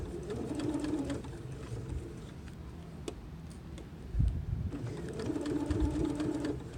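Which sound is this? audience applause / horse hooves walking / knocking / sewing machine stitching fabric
sewing machine stitching fabric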